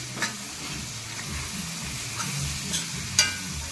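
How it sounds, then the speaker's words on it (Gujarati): Undhiyu vegetables sizzle in a hot pan while a spoon scrapes and stirs, with a few sharp clinks against the metal. "બરોબર મિક્સ કરી દઈશું બધું નાખીને"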